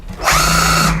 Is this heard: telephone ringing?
no